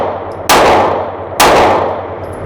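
Two loud Kimber CDS9 9mm pistol shots fired at 7 yards, each a sharp crack with a ringing tail, spaced just under a second apart.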